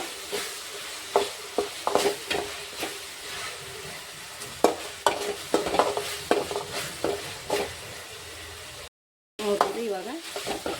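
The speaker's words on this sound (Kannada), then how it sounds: "ಫುಲ್ ಟೊಮೊಟೊ ಅದೆಲ್ಲ ಫ್ರೈ ಆಗ್ಯದ ಆಗ್ಯದ" Tomato and red chilli sauce mixture frying in a pan while being stirred, with repeated scraping strokes of a spoon over a steady sizzle, close and fairly loud, alone with no talk.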